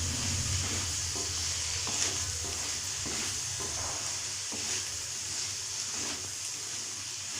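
Dry fruit and green pea chaat with chaat masala and fresh coriander roasting in a pan, a continuous close sizzle broken by repeated scraping strokes of a spoon stirring, no voices.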